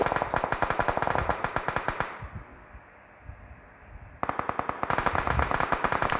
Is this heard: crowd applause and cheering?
no